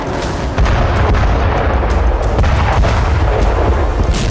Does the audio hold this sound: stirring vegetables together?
no